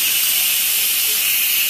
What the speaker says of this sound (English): And I'm going to turn this off for now and release the steam.